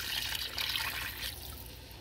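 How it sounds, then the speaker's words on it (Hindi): Water pours steadily into a pot of beef nihari for about two seconds, making a continuous close splashing rush. "इस स्टेज में मैं इसके अंदर डालूँगी 4 से 5 गिलास पानी"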